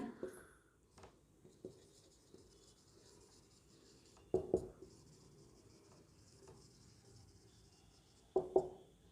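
Pen or chalk strokes of handwriting during a Hindi-language exam-prep lesson, soft scratching with a few louder taps and scrapes spaced apart, close and quiet.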